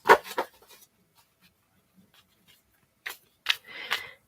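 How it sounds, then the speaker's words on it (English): Tarot cards being shuffled in a quiet ASMR setting: a few soft papery taps early on, then near silence, then crisp close riffles and a brief rustling shuffle near the end. "while I shuffle the cards"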